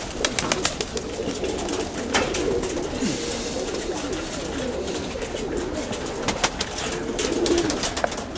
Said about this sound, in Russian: Вот хорошо снимать голубей вот так вот.